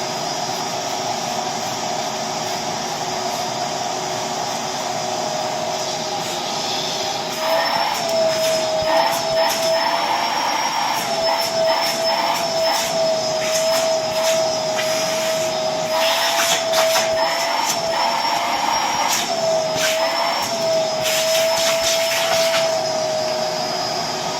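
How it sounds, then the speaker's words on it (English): A vacuum cleaner runs steadily and loud throughout, cleaning a tactical dog harness, its whine rising in pitch and strain when the nozzle presses into the fabric and straps. "So I finished vacuuming."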